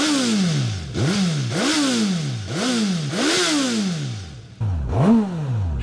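A Suzuki GSX-S1000 GT motorcycle engine idles, then revs up sharply five or six times in quick blips, each rising and falling back, loud and close with no voices.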